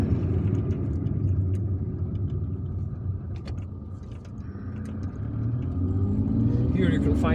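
A car drives through the streets of Algiers toward the Triole roundabout, a steady low engine and road rumble with faint traffic around it and a voice talking over it.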